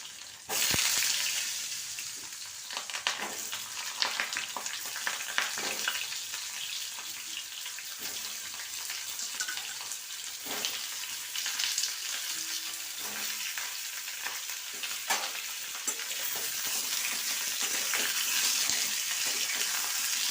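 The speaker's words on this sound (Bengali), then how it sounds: "তেলটা গরম হয়ে গেছে আর আলুগুলোকে এইভাবে কেটে রেখেছি আলুগুলো একে একে ছেড়ে দিচ্ছি" Cut potatoes sizzle steadily in hot oil with cumin seeds, a dense continuous frying hiss running the whole time, with small clicks and spatters as pieces drop in one by one.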